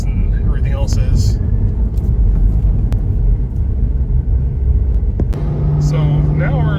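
A Porsche runs a steady lap around a race track at highway speed, 60 to 70 mph, its engine and road noise forming a constant loud rumble beneath someone talking.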